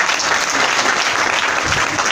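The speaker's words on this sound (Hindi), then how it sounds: "एक बार तालियां होनी चाहिए इनके लिए" An audience claps together in dense, sustained applause, loud and even throughout, at a business seminar on success.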